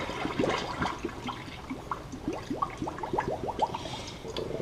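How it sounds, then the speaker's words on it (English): Water is poured out of a pot after boiling eggs, a quiet gurgling and splashing stream with bubbling glugs that come in quick uneven bursts. "I'm just going to empty the water out of here."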